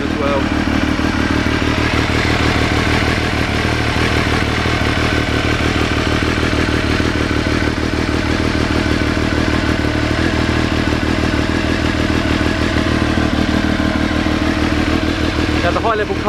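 A Triumph Daytona 955 triple with a carbon high-level exhaust runs steadily from a cold start, a loud, continuous, close engine note with some clatter and no pauses throughout.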